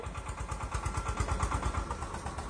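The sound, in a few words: tractor engine running on road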